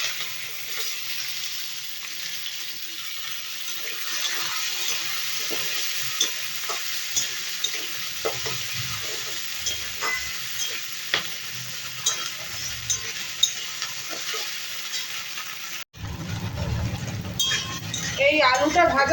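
Cubed potatoes and green chillies sizzle loudly in a pan of hot oil tempered with dried red chillies and whole cumin, with stirring and occasional metallic clinks. The sizzling gives way to a rougher, louder stretch of cooking noise near the end.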